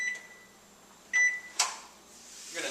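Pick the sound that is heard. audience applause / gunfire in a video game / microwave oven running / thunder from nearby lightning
microwave oven running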